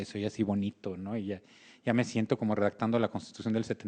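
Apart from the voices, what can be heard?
No everyday noise stands out behind the speech.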